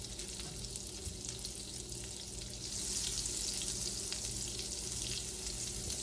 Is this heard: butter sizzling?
yes